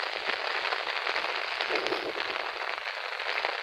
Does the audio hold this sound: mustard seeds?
no